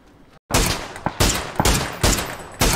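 Gunfire in a multiplayer shooting video game, a rapid series of loud close shots in quick bursts about half a second apart.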